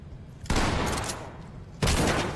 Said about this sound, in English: Let's shoot him with a beanbag gun.